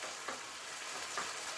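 Meat sizzles steadily in a hot pan, a close, bright hiss with a couple of soft stirring scrapes.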